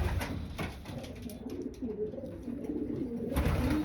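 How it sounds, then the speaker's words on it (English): A Kenny White racing pigeon coos in a low rolling call close by, steady over a couple of seconds, with light background noise and no talk. "This is a Kenny White bird."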